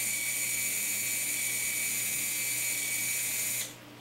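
An Arduino-controlled servo motor turns counterclockwise with a faint, steady high-pitched whine that cuts off abruptly near the end.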